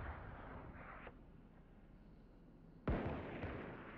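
A single sudden gunshot bursts out during a Valorant match after a low, muffled stretch of game ambience, loud and close, then fades into a lingering rumble.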